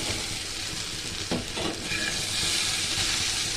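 Ridge gourd and cucumber fry in a pan with turmeric and salt, making a loud, steady sizzle broken by a couple of stirring scrapes.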